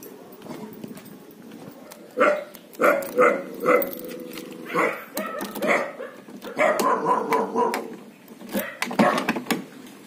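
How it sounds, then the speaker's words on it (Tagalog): A dog barks in a string of short, close bursts, some clustered quickly together, with scattered clattering knocks in between. "Oo, may aso."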